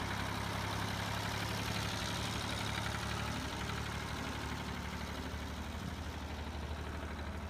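A tractor engine powering a shaking potato digger in the field runs as a steady, continuous drone, fairly faint and unbroken, with no talk.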